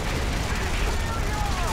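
Aircraft guns firing in the flight combat game IL-2 Sturmovik: Birds of Prey, a dense, continuous rattle of gunfire over a steady engine roar, loud and sustained throughout, with a voice talking over it.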